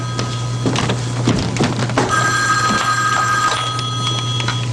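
A telephone bell rings in a home over a steady low mains hum, with rapid repeated ringing bursts sounding loud and close, and no one talking over it.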